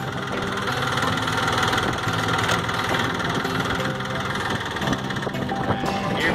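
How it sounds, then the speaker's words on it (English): A Ford tractor engine runs at a steady, loud idle with a rough knocking throb, close by, while the transfer case is shifted into a faster gear; no distinct clunk of the shift stands out over the engine. "I'm gonna change my transfer case into a faster gear here"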